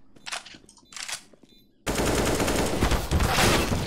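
Gunfire from a competitive shooter game: a couple of sharp shots first, then a loud, continuous burst of rapid automatic fire that fills the rest.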